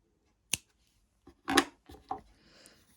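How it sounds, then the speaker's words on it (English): Scissors snipping crochet yarn for an amigurumi heart, a few sharp, close clicks and short cuts spaced apart in a quiet room. "Now you can cut your yarn"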